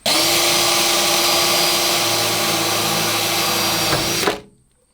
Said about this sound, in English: I'm gonna go do pilot holes around all of these with this drill